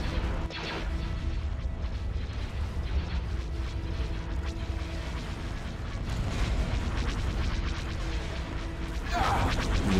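Star Wars space battle in Empire at War: a dense, continuous barrage of ship cannon fire and booming hits with rumbling explosions, loud and steady throughout, swelling near the end.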